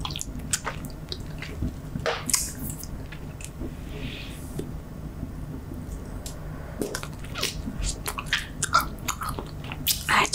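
Gum chewing sounds close and wet, with a steady run of sticky smacks and soft squishes and scattered clicks, the chewing continuous and intimate with no talking.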